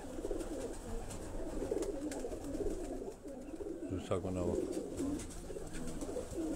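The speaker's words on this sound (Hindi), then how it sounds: "ये परवाजी कबूतर हैं, जोड़ों वाले नहीं हैं" Flying (parwazi) pigeons give low, throaty coos in a repeating run close by, with a voice speaking briefly over them partway through.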